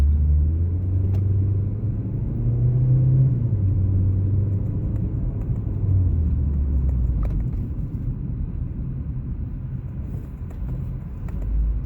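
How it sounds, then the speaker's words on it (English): A car rolls slowly over a road speed hump, its low engine rumble and tyre drone steady and close with a brief dip as the wheels crest the bump; no talking. "Slow down for this speed hump because I'm not about to clip this car that hard."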